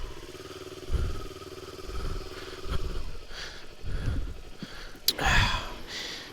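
A 2018 Kawasaki Ninja 400 being ridden, its engine note rising and falling in short bursts amid wind rumble and clatter, fairly close and without speech.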